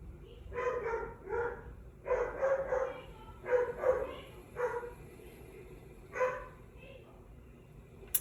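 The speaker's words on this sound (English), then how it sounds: "the dog is barking." A dog barks repeatedly at a moderate distance, in uneven bursts of two or three barks with short pauses between them.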